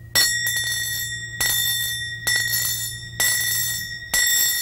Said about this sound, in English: hit and touch with kartal